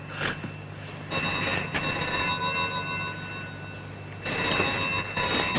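An old-style telephone bell rings in an interior, in bursts of bright metallic trilling separated by short pauses, heard over a steady low hum, with no talking.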